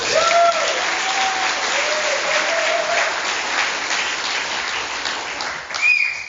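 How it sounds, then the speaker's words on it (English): Loud, steady applause from a crowd filling the whole stretch, with a few whistles rising above the clapping. "Give my mom a round of applause."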